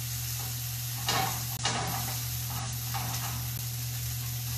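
Garlic sizzles in a hot pan with the heat just shut off, a steady frying hiss broken by a few scraping stirs, for a Moroccan roasted cauliflower dish.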